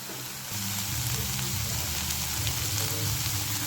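Capsicum and onion frying in a pan give a steady, close sizzle with a low crackling bed, holding even throughout with no voices.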